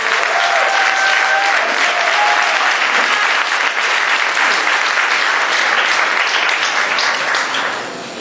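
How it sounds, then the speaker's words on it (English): Loud, dense applause from an audience at a Red Tie charity event for HIV/AIDS, steady clapping sustained for about eight seconds with a few faint voices mixed in before it eases off. "Please give a big round of applause for Michael Matthews."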